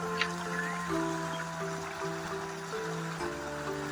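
Irrigation water runs steadily along a channel in a farm field being readied for groundnut sowing, a continuous broad wash with a low droning hum underneath, moderately close and unbroken throughout.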